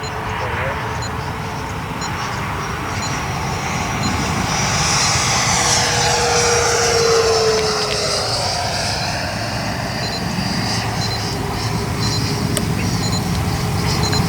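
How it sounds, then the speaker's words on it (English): A radio-controlled model airplane, either an EDF jet or a warbird, whines overhead in a Florida flying field on New Year's Day, its pitch swelling and then dropping as it passes close. Low background noise runs underneath. "Show you the bottom of the airplane."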